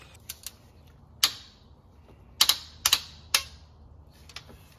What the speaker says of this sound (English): I'm using this quarter inch ratchet and I'm not applying any torque